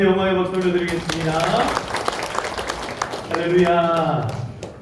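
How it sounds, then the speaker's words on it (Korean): Congregation clapping in a church during a Sunday morning service, a broad wash of applause in the middle stretch, with a voice speaking over it at the start and again at the end. "우리 하나님 앞에 영광의 박수 올려드리겠습니다"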